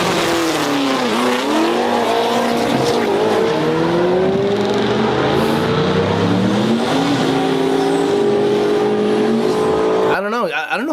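A Corvette ZR-1 fitted with a swapped Coyote engine revs hard and loud, its pitch sweeping up and down through repeated climbs with a rough, raspy edge, steady and close until a sharp drop at the very end.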